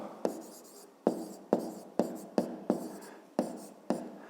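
Pen or pencil writing the letter K for a fifth-grade maths exercise, with eight sharp scratchy strokes on paper in an irregular rhythm, close and distinct.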